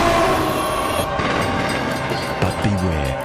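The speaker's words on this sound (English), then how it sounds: "Trains are big, deceptively fast, and can't stop quickly." A train passes close by, loud rumbling and rail clatter with a brief horn-like tone near the end and a faint voice in the background.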